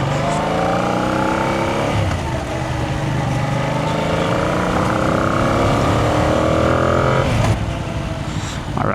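Brand new motorcycle engine running steadily and revving, a loud close rising and falling whine with sweeping pitch changes and no talking.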